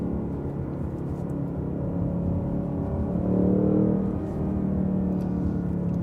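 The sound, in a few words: Ford Mustang Mach 1 engine rev-matching on downshift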